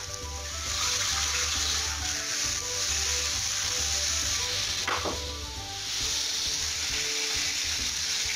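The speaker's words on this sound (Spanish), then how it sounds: "ya tenemos la sartén bien caliente y vamos a dorar nada, muy poquito el atún" Tuna pieces searing in a very hot frying pan with a little oil give a steady, close sizzle and spatter that runs throughout, with brief stirring scrapes and no talk.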